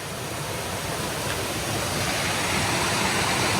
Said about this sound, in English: this is a beautiful little waterfall here